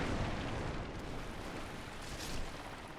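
A toad-like creature in Dark Souls Remastered sprays a chemical fume, a loud, dense, steady hissing rush that fills all three seconds with no pauses and no voices.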